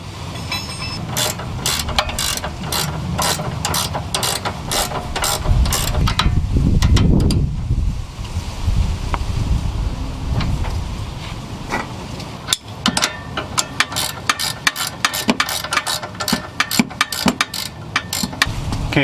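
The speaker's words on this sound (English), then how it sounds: "use a Torx and an 18mm now to tighten the bottom up" A ratchet tightens a Volvo lower control arm bolt using a Torx bit and an 18mm socket. Rapid, close, loud clicking comes in bursts, with a grinding pause between runs.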